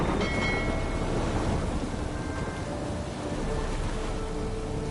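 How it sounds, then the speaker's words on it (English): A thunderstorm in The Witcher 3 on PS5: heavy rain pours as a loud, unbroken hiss over a deep rumble of thunder, with faint tonal music threads drifting in the background. "A storm, damn it."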